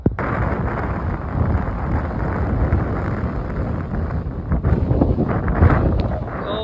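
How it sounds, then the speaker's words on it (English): Strong, steady wind roars and buffets the microphone throughout on a cliff face climb in Zion National Park, a dense rumbling rush with gusts swelling louder toward the end. No voices. "Oh my God, it's windy."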